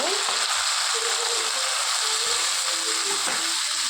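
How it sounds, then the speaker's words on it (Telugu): Finely chopped tomatoes fry in a pan for a home-style eggplant curry, giving a loud, continuous close-up sizzle with faint scraping stirs underneath. "సన్నగా తరుక్కున్న టమాటోస్ వేసి వేయించేసుకోండి"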